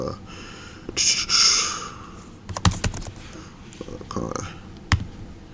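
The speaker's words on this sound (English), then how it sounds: "typing too fast" Bursts of rapid keyboard typing with clicky keystrokes, close to the microphone, alongside breathing and occasional voice sounds.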